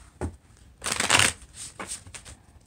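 Lenormand cards being shuffled, with a few soft riffling bursts, the longest and loudest in the middle, set close against a quiet room.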